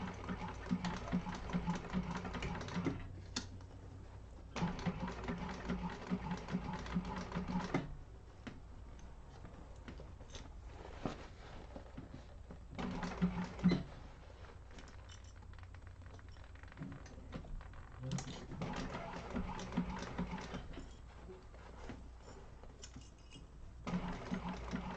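A sewing machine stitches an organizer bag in several bursts of steady, fast mechanical whirring with a rhythmic needle ticking. Short quiet pauses fall between the runs, and the sound is close and moderately loud.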